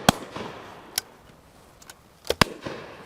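Sharp shotgun reports ring out at a game shoot, several quick bangs spaced unevenly over a few seconds against quiet open-air background, some fairly close and one pair fired almost back to back.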